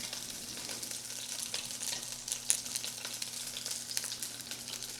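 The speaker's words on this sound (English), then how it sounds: "Ow, splattering oil on me." Venison shanks browning in hot oil give a steady, close sizzle with crackling spatters and one sharp pop, with no talking.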